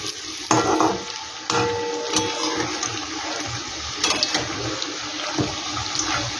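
Pitha puli dumplings frying in hot oil in a wok and being flipped over, a close, continuous sizzle broken by several sharper scrapes and splashes as the pieces are turned, with no voices.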